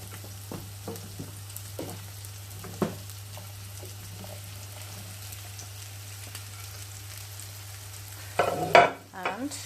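Cauliflower frying in hot oil in a pan, a steady soft sizzle with scattered stirring clicks and scrapes, then a louder burst of crackling near the end.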